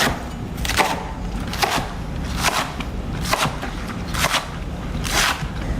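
A knife chops washed green onions into 1-inch pieces for kimchi, landing about six crisp, evenly paced strikes over a steady background hiss.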